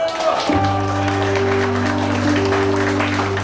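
Gala audience applause at the Kołobrzeg Wind Rose award ceremony, continuous clapping behind sustained organ-like music tones that enter after the first half second, steady and moderately loud throughout.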